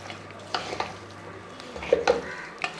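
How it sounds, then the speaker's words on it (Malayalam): Beef and salt being stirred in a pot under a faint sizzle, with spoon scrapes and light clinks scattered through a quiet kitchen background. "ഇനി നമുക്ക് ഇതൊന്ന് ഇളക്കി കൊടുക്കാം"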